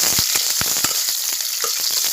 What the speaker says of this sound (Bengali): এবারে আমি ক্যাপসিকাম আর পেঁয়াজগুলো একটু লাল লাল করে ভেজে নেব